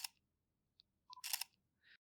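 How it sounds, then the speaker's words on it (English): A Nikon Zfc camera fires its mechanical shutter, a quick crisp clack with small mechanical ticks around it, close and quiet in an otherwise silent room. "There is something really satisfying with each click, with each photograph you get whenever you click the shutter button"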